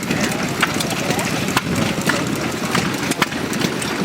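A small bike engine runs steadily at a vintage engine show, with a continuous loud chugging drone and faint periodic knocks. Voices talk over it.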